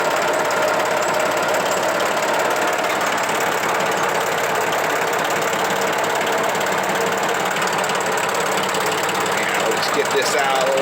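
Tractor engine running in a backyard cleanup with a tiller mounted, a loud, steady rough rumble with knocking texture throughout, close by and unbroken.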